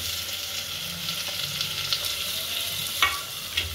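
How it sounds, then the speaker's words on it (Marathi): Curry leaves and tomato hit hot oil in a pan with onion and paste, giving a steady close sizzle and crackle with a few sharper pops, no talk. "त्यात कढीपत्ता, टोमॅटो टाकते"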